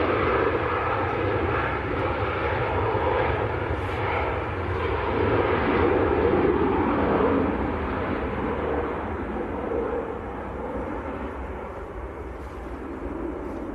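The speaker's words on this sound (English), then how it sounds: "here goes the little KLM 700 Series 737 to Amsterdam" KLM Boeing 737-700 departing Manchester Airport for Amsterdam, a sustained broad jet roar that swells toward the middle and slowly recedes into the distance, heard alone without talk.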